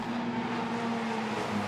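A Formula Renault Eurocup race car at speed during qualifying at Abu Dhabi, with a steady, sustained engine tone at a distance, the driver briefly getting the back end out of shape.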